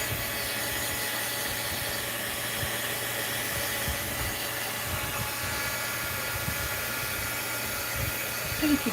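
A hair dryer blowing steadily on wet paint on an art journal page, a continuous mid-level whooshing drone that stays even and unbroken from start to finish.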